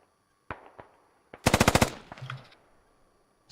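A GPMG machine gun in the video game Squad fires a quick burst of about seven rapid, loud shots, preceded by a few scattered single reports and followed by fading echo, with no talking.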